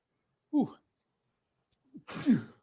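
Two short nasal bursts come from a single person: a small snort, then after a pause a louder, breathy sneeze close to the listener.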